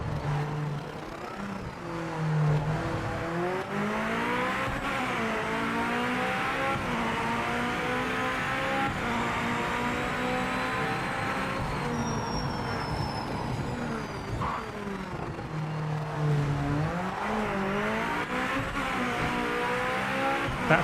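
Race car engine in the Project Motor Racing video game, revving and shifting through gears for a sustained lap, with rising and falling pitch and brief tire squeal, loud and continuous with no talk.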